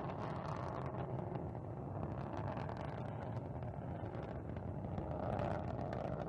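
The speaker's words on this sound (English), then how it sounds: "Engines are reported to be operating normally from the blockhouse at Baikonur." Soyuz MS-23 rocket engines roar during the uncrewed launch from Baikonur, a steady, dense broadband rumble that holds at one level throughout with no voices.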